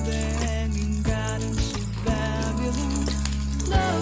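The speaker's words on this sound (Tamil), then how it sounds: "நல்லா ஃப்ரை பண்ணிகிட்டே இருக்கணுங்க" Pirandai (adamant creeper) frying in a pan, with continuous sizzling close up and a few soft clinks of a utensil against the pan.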